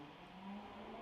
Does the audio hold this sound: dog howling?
no